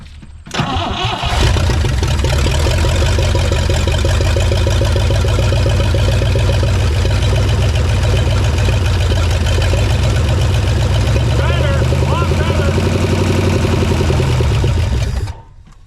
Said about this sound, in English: Revs up high and then it dies.